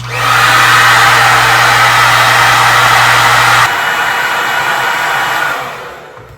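A hair dryer blows on curly hair, a loud steady close whir with a low hum that switches to a lower setting midway, then fades out near the end.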